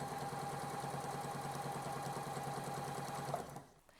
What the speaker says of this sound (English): I'm ready to sew them together.